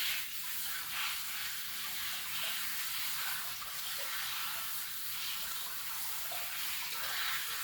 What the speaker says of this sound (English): Let me rinse it off a little bit more.